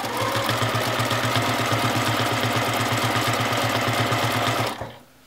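Free-motion quilting on a sewing machine, stitching across a quilt block: a steady, rapid mechanical chatter of needle strokes that runs evenly for several seconds, close and loud, then cuts off abruptly.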